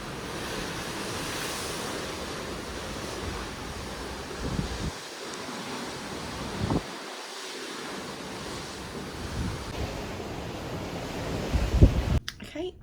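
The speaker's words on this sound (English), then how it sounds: "It is actually very windy outside." Strong wind buffets the microphone on a cruise ship's open deck while the sea surges and hisses below, a constant loud roar with brief dips and a clatter near the end.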